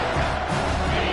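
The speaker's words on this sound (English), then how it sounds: "This crowd is trying to inspire this defense to make a big red zone stop." Loud, steady roar of a stadium crowd at a Navy vs Miami college football game as the defense tries to make a red zone stop, a dense continuous wash of cheering with no clear breaks.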